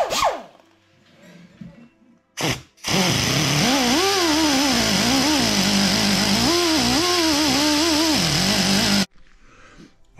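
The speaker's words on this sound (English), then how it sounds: "I did that with the die grinder" A die grinder notching the frame of an Engwe Engine Pro 750W ebike, a loud high whine running about six seconds whose pitch dips and rises as it bites into the metal, after a few brief handling sounds.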